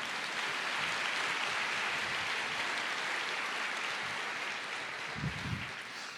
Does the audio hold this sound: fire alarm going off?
no